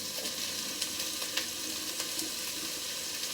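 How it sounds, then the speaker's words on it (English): Carrots and peas sauté in a pan with a steady, dense sizzle and faint crackles throughout, no voices. "Let that saute"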